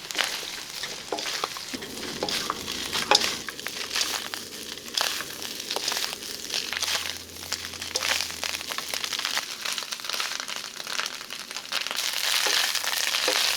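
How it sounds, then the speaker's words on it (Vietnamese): Bamboo shoots stir-fried in oil with minced shallot and garlic in a pan over medium-high heat, giving a steady close sizzle with crackling and the scrape of stirring throughout, no voices. "Tiếp tục mình cho măng vào xào với lửa trên trung bình."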